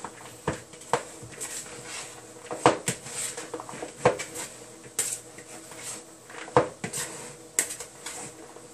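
Pulled pork egg roll filling is stirred in a bowl, giving irregular clinks and scrapes of a utensil against the bowl along with soft squishy mixing sounds, close by.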